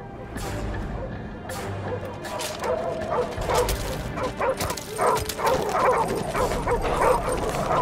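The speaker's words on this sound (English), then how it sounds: "Leave it alone. It's a wild dog." Wild dog barking and yipping in Call of Duty 4: Modern Warfare Remastered, repeated bursts over a busy game soundscape, with a voice talking over it.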